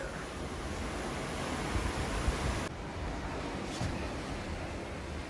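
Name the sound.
rough ocean waves seen from a cruise ship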